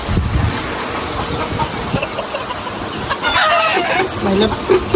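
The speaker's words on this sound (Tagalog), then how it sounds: "Dami na ng manok ni Papa tingnan mo." Backyard chickens, including small chicks, cluck around a rooster that crows partway through, with wind rumbling across the microphone throughout.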